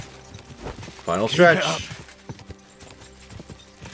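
Horse hooves beat a steady, rhythmic clip-clop in the medieval game Kingdom Come: Deliverance 2, running quietly beneath a voice that rises briefly over the middle of the passage.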